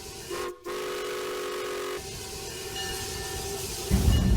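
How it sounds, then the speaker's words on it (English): A Hawaiian Philippine Company sugar mill steam locomotive fueled by leftover sugarcane fiber runs close by, a sustained whistle tone over a steady mechanical rumble that grows heavier and louder toward the end. "the Hawaiian Philippine Company, aboard their steam locomotive"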